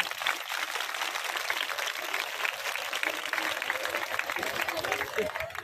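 An audience of women at a comedic local political gathering claps together in a steady, dense round of applause, loud and continuous, with a voice speaking over it.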